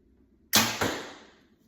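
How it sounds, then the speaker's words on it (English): A single sharp bow release with a quick second knock, then a brief fading rattle of arrows in the quiver. "Heard my arrows rattle just a little bit, but not too bad."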